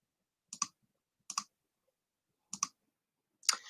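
Four sharp computer mouse clicks on a website, each a quick double tick, spaced out with quiet between them, close and crisp.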